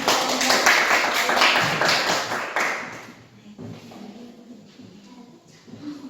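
Classroom applause from students, a steady burst of many hands clapping close by that cuts off after about three seconds, followed by quieter room noise and a few stray claps.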